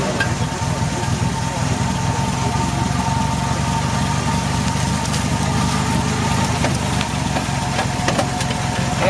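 Car engine held at a steady drone and idle-like rumble, loud and continuous from inside or close to the vehicle, with slight rises as the accelerator is pressed; occasional faint clicks over it.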